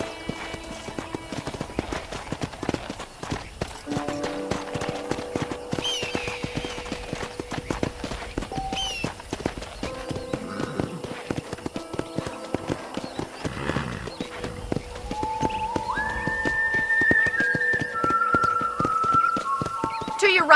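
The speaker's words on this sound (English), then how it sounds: "let's see if you can still ride a horse" A horse's hooves clip-clop steadily while riding around the ranch in Red Dead Redemption, with a brief whinny, someone talking over the ride and rising musical tones near the end.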